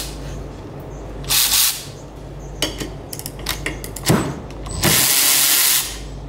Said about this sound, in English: let's try it with our Milwaukee ratchet